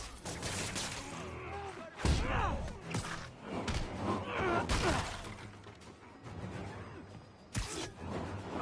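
Gunfire and impacts in a Spider-Man video game, with rapid bursts of shots, whooshes and thuds over a dense, loud mix of game audio.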